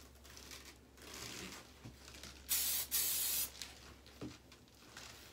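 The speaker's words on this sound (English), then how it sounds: "Notice that I'm only spraying at her root, the base" Two short bursts of hairspray hiss, close and fairly loud, sprayed at the hair roots, with quiet rustling and handling noise around them.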